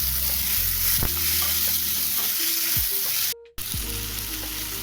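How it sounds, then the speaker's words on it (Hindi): Roughly chopped tomatoes frying in a pan for Bihari-style matar paneer, a steady loud sizzle with a brief cut to silence partway through, and no talking. "तो चलिए टमाटर को भी अच्छे से भून लेते हैं।"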